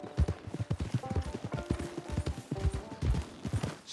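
Horse hooves in Red Dead Redemption 2, a brisk, steady clip-clop of a ridden horse close by, with tack jingling, a faint voice under the hoofbeats.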